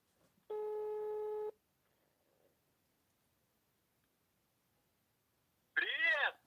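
Telephone ringback tones on a speakerphone call: one steady electronic tone lasting about a second, then near silence, then another warbling tone burst near the end.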